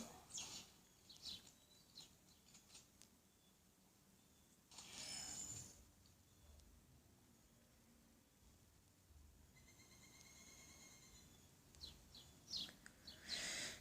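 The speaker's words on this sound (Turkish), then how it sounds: "Burada bir kuş var millet karşıda. Çatıya konmuş sürekli konuşuyor." A bird perched on a rooftop in a counter-terrorist first-person shooter game chirps in short, high, scattered calls, faint and distant over quiet game ambience, with a few louder bursts of noise between them.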